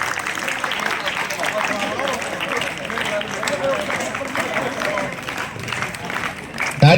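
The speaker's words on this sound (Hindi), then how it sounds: "ताली में कंजूसी नहीं बेटा, बजाते रहो" A school ceremony audience applauds students for board exam results with steady, moderately loud clapping that continues without break, mixed with crowd murmur and voices, ending in a brief louder bump.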